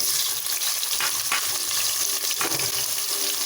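Sliced big onions dropped into hot oil with cloves and cardamom for a jackfruit biryani, a steady close sizzle and crackle with brief stirring scrapes, no talk.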